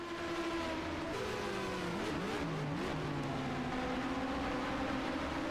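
Champ Car race car with a slipping gear, engine whine climbing, dropping and climbing again as it shifts from third to fourth and then finds fifth, loud and close with no talk.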